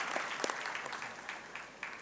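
Applause from the audience at a college annual function for a rangoli made by students, a steady patter of clapping at moderate distance with no speech.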